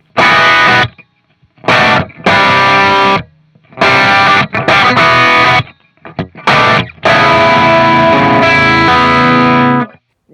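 Heavily distorted, doubled electric guitar through a Bogner Ecstasy amplifier, one side in plexi mode and the other in blue mode, plays loud, thick chord bursts separated by abrupt silences, sounding layered and wide.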